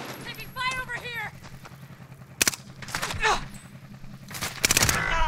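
Gunfire in the video game Warzone at Fortune's Keep: several sharp broadband shots crack out in separate bursts, including a rapid cluster near the end, over a steady low game hum, with voices talking in between.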